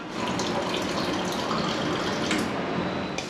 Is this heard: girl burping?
no